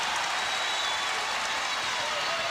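A basketball arena crowd at a 1991 Lakers versus Trail Blazers playoff game roars and applauds in a dense, loud, continuous wash of cheering and clapping.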